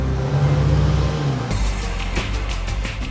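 BMW cars on a race track, including an M5 and an M3, giving a loud, steady engine drone that shifts to a different note about halfway through, with no talking.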